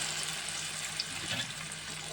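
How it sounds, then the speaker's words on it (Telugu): Tamarind juice pours steadily into a cooking pan in a home kitchen, a close, continuous watery splash and trickle with no talking. "ఇప్పుడు చింతపండు పులుసు పోసుకుందాం."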